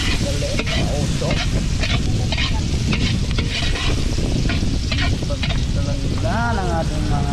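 Onion and garlic sautéing in a pan give a loud, steady sizzle with stirring scrapes, an island-style home cooking scene; a faint voice briefly surfaces near the end.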